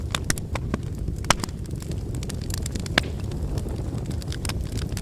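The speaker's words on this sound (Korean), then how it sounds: "우리 토크쇼 잠시 중단하고 벽난로 앞에서 잠시 멍 좀 때려볼까요?" Wood fire crackling in a home fireplace: a steady bed of soft rushing with dense, irregular crackles and pops, close and continuous, with no talking.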